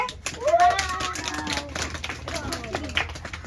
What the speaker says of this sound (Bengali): সবাই হাততালি দে।